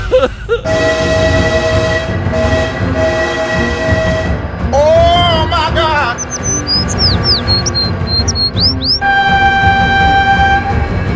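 A train in the driving game BeamNG.Drive rumbles past, its horn sounding in several long blasts, with chirping birds and a hectic mix of game noise and speech.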